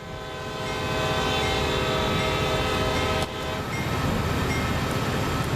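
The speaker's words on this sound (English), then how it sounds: "This is the beloved American way of blowing train horns." American diesel locomotive horn from the Train Sim World 5 game, blown at a grade crossing on the Sand Patch grade: a loud, sustained chord held for several seconds with one brief break, over steady rumbling engine noise.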